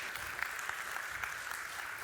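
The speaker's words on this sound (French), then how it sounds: "on l'applaudit ensemble" A church audience applauds together at a sermon gathering, a brief burst of scattered clapping, fairly faint and distant, lasting about two seconds without speech.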